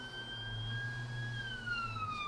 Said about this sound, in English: we can't actually edit this siren out, so we'll just go with it